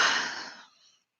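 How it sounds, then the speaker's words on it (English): A single quick papery riffle of tarot cards, loud and close at first, then fading out within a second into silence. "I know you guys just heard me shuffle"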